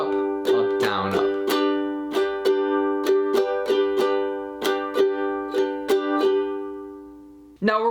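An acoustic guitar strummed in a down, down, up, down, up pattern, with crisp repeated chord strokes in a steady rhythm, played alone and close.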